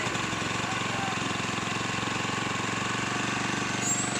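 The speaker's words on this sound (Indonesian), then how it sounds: "Oke, mesin sudah hidup normal." A small genset engine, freshly serviced, idles steadily nearby with an even, rapid chugging putter that holds constant throughout.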